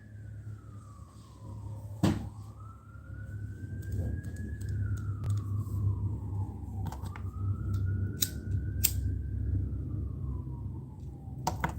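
A wailing siren rises and falls slowly in the distance, steady and moderately faint over low background rumble, with a few sharp clicks.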